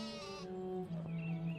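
A sheep bleats in a long, wavering, nasal call, followed by a second quieter bleat, close and clear with no talk.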